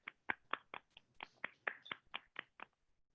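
Bare hands slap the soles of the feet during a wake-up yoga practice, about ten sharp, close smacks in a quick, fairly even rhythm with short gaps of quiet between them.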